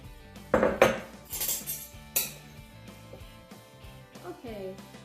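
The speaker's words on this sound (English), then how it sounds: "I've mixed everything up together, the wet and the dry" A spoon clinks and scrapes against a bowl while wet and dry biscotti ingredients with maple syrup are stirred together, a series of light irregular knocks close by, with a person talking over it.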